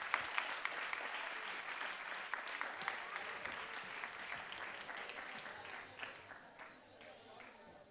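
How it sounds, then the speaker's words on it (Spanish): An audience at a youth presentation event applauds warmly, a dense sustained patter of many hands that slowly fades, with some voices mixed in. "un aplauso fuerte para los cinco"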